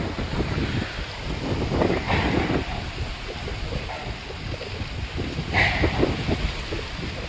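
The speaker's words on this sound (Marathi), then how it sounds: "आज जळगाव सपकाळी ते खूप जोराचे वारे सुटले." Strong wind roars and buffets the microphone in uneven gusts in Jalgaon, a low rumbling rush that swells and fades throughout.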